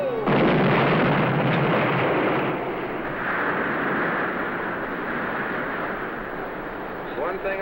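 A blast going off after a spoken countdown, a loud close roaring burst that quickly swells and then rumbles on for several seconds before trailing away.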